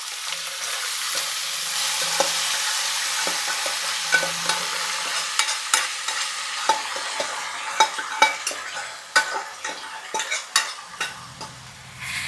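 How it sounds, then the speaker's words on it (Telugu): Sesame flour and drumstick leaves frying in a pan in a traditional Telugu home kitchen, with a steady sizzle under repeated scraping, stirring strokes of a spoon against the pan that grow more frequent toward the end. "ఇందులో వేసుకుని కాసేపు వేపాలి"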